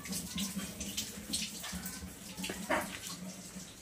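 Water overflows in a domestic setting, a continuous close splashing and gushing like a filling tub, with faint background sounds and no clear talk.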